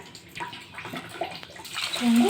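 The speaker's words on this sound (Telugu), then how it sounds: "సరే ఇంకా ఈ వాటర్ అయితే ఉండేసి మంచినీళ్ళు అయితే వేసేద్దాము" Water poured in a splashing stream onto a bowl of millet grains, rising to a fuller gush at the end, with faint voices in the background.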